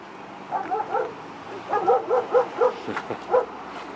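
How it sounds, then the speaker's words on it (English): A police canine unit dog barking outdoors in a string of sharp, repeated barks and yips, moderately close over faint traffic-like background noise. "dog's barking anyway"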